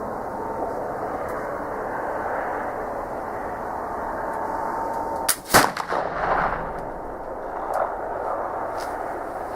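A Traditions PA Pellet flintlock rifle fires outdoors: a single loud, sharp blast with a short rumbling tail, set against steady ambient background noise.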